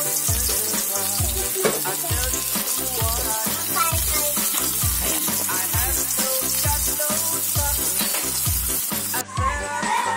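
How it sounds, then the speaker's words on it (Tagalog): Milkfish (bangus) steaks frying in hot oil, skin side first, in a continuous loud close sizzle with rhythmic low thuds throughout, ending abruptly near the close. "So, ayan guys, naprito na natin yung ating bangus."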